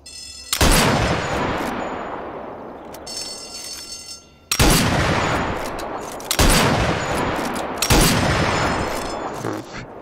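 Four loud, booming sniper rifle shots ring out in Sniper Elite VR, each with a long rolling echo tail, spaced a couple of seconds apart and heard close without any talking.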